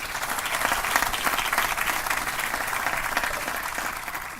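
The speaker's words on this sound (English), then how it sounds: "Let's give them a round of applause." Steady applause from a crowd, dense clapping that holds at an even level throughout without pause.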